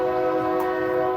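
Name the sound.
passing train and train horn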